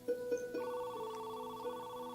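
A telephone rings faintly with a few short electronic tones and then a sustained ringing pattern, quiet and alone.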